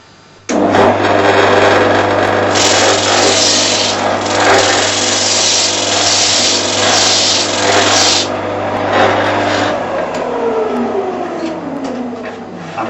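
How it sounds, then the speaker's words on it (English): A Shopsmith multipurpose woodworking machine sands timber held under the mitre gauge, with the quill raised to the work. A loud, steady motor whine and gritty sanding run for about nine seconds, then the machine winds down. "I can use the quill to come up and sand the work"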